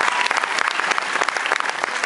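Audience applause, dense steady clapping from many hands close by, continuous and fairly loud for two seconds with no talk over it.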